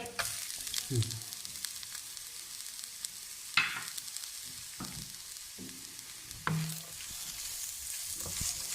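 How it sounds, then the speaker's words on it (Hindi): Grated carrot and bell pepper fry in a pan, a soft background sizzle broken by a few scraping stirs and low knocks, quiet and close, with no voices. "अब हमें इसको 1 मिनट के लिए सिर्फ भूनना है"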